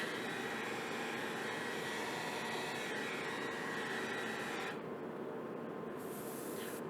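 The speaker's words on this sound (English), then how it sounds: "between each graining step, I'm going to use the hair dryer" A hair dryer blows steadily close by, heat-setting paint graining on a BMW door panel repair, a continuous broadband whoosh that changes tone slightly near the end.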